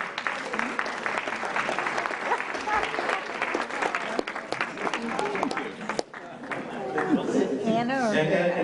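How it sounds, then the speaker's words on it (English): An audience at a 2007 talk applauding a guest's welcome, with a burst of clapping mixed with chatter that breaks off partway, followed by people talking. "And so I'd like to give a big round of applause"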